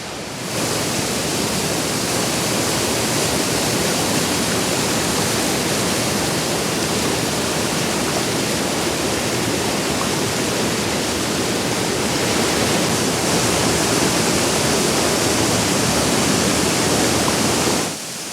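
The Broye river running high in December, a steady, loud broadband rush of flowing water that holds evenly throughout with no other sounds.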